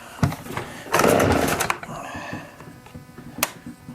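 A Stihl blower vac is pull-started with a few quick recoil-cord tugs, giving rasping whirs and brief sputters without a sustained run, close by and loud.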